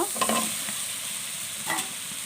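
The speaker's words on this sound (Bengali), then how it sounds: "এখন ভালো করে নেড়ে দেব।" Boiled banana is stirred into fried spices in a pan, a faint steady sizzle with two soft scraping strokes of the spoon, no voices.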